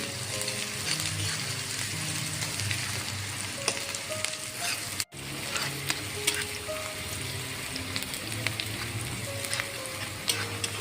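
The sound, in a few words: onion sautéing in a pan until pink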